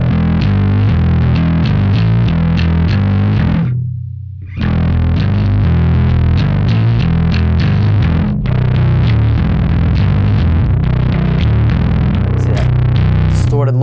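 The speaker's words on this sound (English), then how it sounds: "And this is with the drive." A Schecter Hellraiser Extreme bass guitar played through a SansAmp drive pedal gives a thick, gritty distorted tone, a steady run of picked notes with a brief pause partway through, loud and close.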